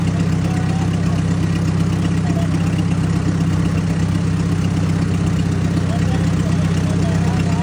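A tractor engine idles with a steady low, heavy rumble while driving through floodwater, continuous and close throughout with no breaks.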